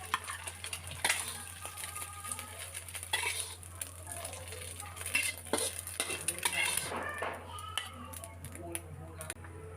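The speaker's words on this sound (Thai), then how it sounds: "หลังจากที่ไข่สุกดีนะคะเราก็ตักใส่จานแล้วก็พักไว้ก่อนค่ะ" A cooked egg is scooped out of a pan onto a plate while stir-frying wild sweet leaf with egg and canned fish; utensils scrape and clink against metal and dishes in a steady run of clatter, with a faint background hum.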